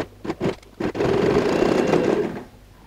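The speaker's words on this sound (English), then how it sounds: "so the pleats stay in place, let's go ahead and put an edge stitch" Sewing machine running a steady edge stitch along pleats on a lined handbag, one sustained near whir lasting about a second and a half after a few short bursts and clicks.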